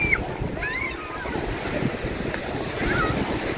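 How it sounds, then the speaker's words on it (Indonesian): Strong waves crash and wash steadily on the shore of Paparean beach at Lake Toba, close and continuous, with gusty wind buffeting the microphone and distant voices underneath. "inilah bila ombak deras di Pantai Paparean"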